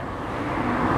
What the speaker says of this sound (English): You can see the traffic coming through here